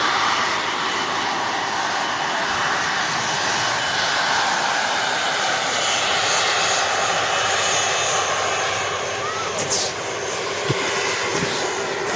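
A Qatar Airways Boeing 777 approaching Manchester Airport gives a steady, loud, broad engine roar that holds evenly for the whole stretch, with no voices over it.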